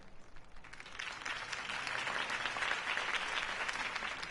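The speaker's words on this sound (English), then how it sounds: "could have heard that applause" Crowd applause at a Harvey Dent campaign rally in the Telltale Batman video game, a steady wash of many hands clapping that swells and holds.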